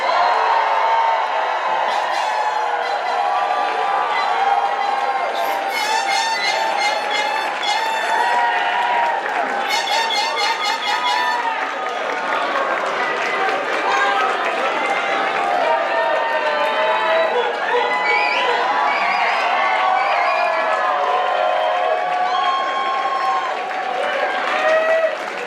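Sustained applause with cheering and whoops from a crowd at a graduation ceremony for new doctors, loud and steady throughout with scattered shouts and voices mixed in.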